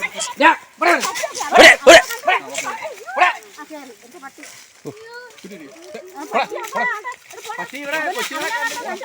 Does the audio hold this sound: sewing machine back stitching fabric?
no